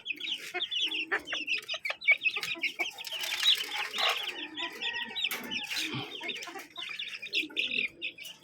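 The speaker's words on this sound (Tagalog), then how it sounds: "Ito mga sisiw." Chicks and chickens cluck and peep close by at feeding time on a farm, a busy overlapping stream of high chirps and short clucks with no voices.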